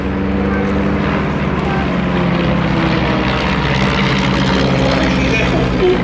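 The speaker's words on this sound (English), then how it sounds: "This, going through its aerobatic paces, is representative of another of the Chipmunk's customer nations," A de Havilland Chipmunk propeller plane performs aerobatics, its engine drone loud and continuous, rising and falling slightly as it maneuvers overhead, with steady broadband roar throughout.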